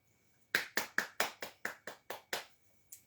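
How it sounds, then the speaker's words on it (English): About ten crisp hand claps in a quick, even rhythm, close and fairly loud in a quiet room, then a pause and one softer final clap. "Why are you clapping?"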